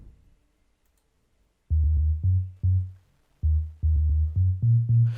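Deep, punchy amapiano log drum bass notes layered with a sub in a syncopated pattern, each a booming pitched thump with a short decay, played alone after a brief quiet start.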